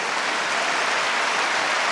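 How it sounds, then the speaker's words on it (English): Steady, dense applause from a crowd at a men's singles table tennis final at the 2016 Korea Open, continuous clapping filling the arena without voices. "Crowd applauding."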